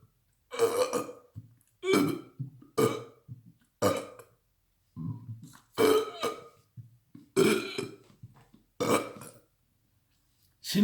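Repeated loud, deliberate burps from a man demonstrating a health exercise, about nine deep eructations in a steady rhythm with short pauses between them, close and alone without speech.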